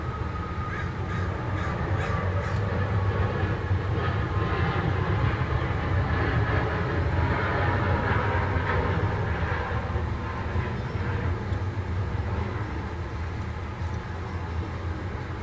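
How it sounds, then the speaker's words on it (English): Jet airplanes taking off close outside a window, a loud steady broadband roar that fills the whole stretch, with crows cawing over it. "When the wind is that direction, the planes take off right out in front of my window there."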